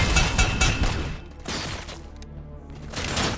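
Gunfire with bullets ricocheting in the video game RoboCop: Rogue City. Loud, rapid bursts of shots and impacts come close together, then ease off slightly, with no talking.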